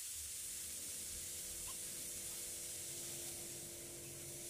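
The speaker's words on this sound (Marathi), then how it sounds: "कुकरचं झाकण लावून फुल गॅसवर एक शिट्टी काढून घ्यायची" Steam hissing steadily from a pressure cooker boiling peanuts on a high gas flame, a continuous, even, fairly quiet rush with no break.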